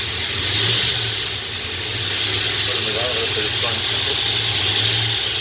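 A supercharged Ford Windsor engine built for around 1,000 horsepower roars steadily on a dyno at about 17 to 18 psi boost with no intercooler, loud and continuous with a sustained high whine.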